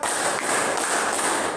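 A group of students claps together in rhythm on command, producing loud, repeated bursts of many hands, with a few distinct beats marked over a continuous wash of clapping.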